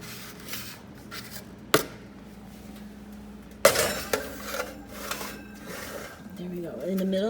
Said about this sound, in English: So I'm gonna get them in the oven.